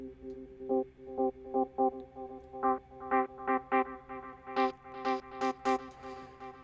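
A short synth-like sample plays repeatedly, each note followed by rhythmic dotted-eighth echo repeats at high feedback, building in brightness and density over several seconds.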